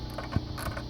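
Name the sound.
10 mm wrench loosening bolts on Champion generator recoil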